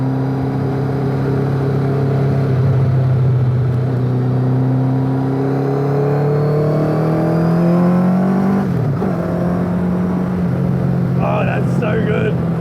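A carburetted Kawasaki ZZ-R1200 motorcycle engine powers an MK Indy Classic on a test drive, droning loud and close with revs climbing steadily, then dipping briefly before settling into a continuous rumble.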